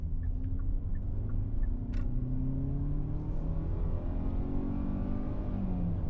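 A 2024 Hyundai Tucson Limited AWD with a 2.5-liter four-cylinder accelerating from a start, heard from inside as a steady low engine drone that rises gradually in pitch, with no one talking.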